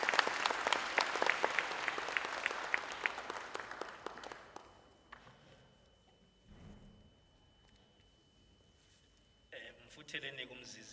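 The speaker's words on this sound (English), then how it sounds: "You deserve a big, big, big round of applause." An audience at a mayoral ceremony honoring top-performing schools and matriculants claps loudly with crisp, dense applause that fades after a few seconds into quieter room sound, with a voice speaking near the end.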